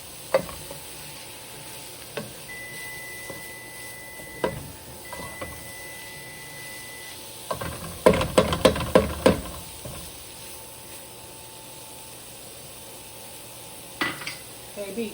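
Jackfruit enchilada filling sizzles in a pan under a low frying hiss, broken by scattered utensil scrapes and a burst of busy stirring clatter midway, then more occasional knocks.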